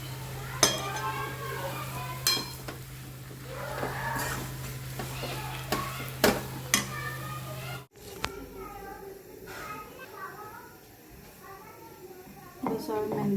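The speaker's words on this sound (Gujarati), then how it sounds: "મસાલો મસ્ત મિક્સ કરી લઈશું." Spiced onion kachori filling, with potatoes just added, is mixed in a pan: a spoon scrapes and clinks against the metal in sharp, irregular knocks over soft stirring, with a person talking throughout.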